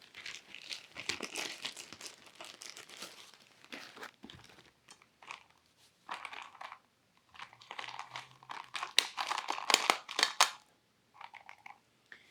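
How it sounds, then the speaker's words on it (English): Cheesecloth, coffee filter or paper towel crinkles and rustles as it is pressed over a home kombucha jar and fixed with a rubber band, close and fairly quiet in several bursts over about twelve seconds. "we're going to be using either a cheesecloth or a coffee filter or a paper towel, and we're going to put a rubber band on top"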